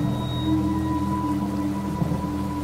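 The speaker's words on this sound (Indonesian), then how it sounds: "Hujan semakin lebat." Heavy rain falls in GTA San Andreas, a steady dense wash of downpour with a low rumbling undertone, continuous and fairly loud throughout.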